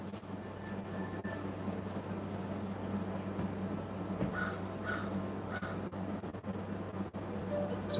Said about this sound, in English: It's a black crow out there right now